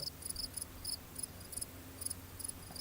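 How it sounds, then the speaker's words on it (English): Crickets chirp as a sound effect: a quiet, steady series of short, high, shrill pulses repeating evenly over a soft background hiss. "Crickets. Crickets."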